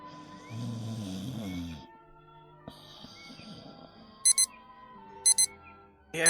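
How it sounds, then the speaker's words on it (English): Sharp electronic beeping of an alarm clock's snooze alarm in a radio drama, two short paired bursts a second apart with a third starting at the end, over quiet background after earlier murmuring sound. "That was the snooze alarm."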